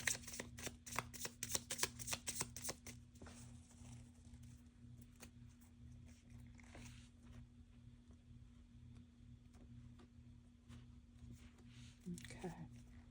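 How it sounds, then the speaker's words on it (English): A rapid flurry of tarot card shuffling, crisp riffling bursts over the first few seconds, then quieter handling under a steady low hum. "One more shuffle."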